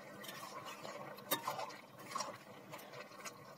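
Spoon scraping and clinking lightly in a pan of cabbage curry with lentil nuggets, a few soft irregular stirring taps at low volume with no talk.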